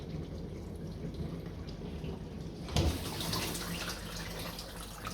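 Water runs inside a closed dishwasher during a rinse cycle, a soft steady hiss that swells suddenly into a louder, fuller spray of rushing water partway through and stays constant.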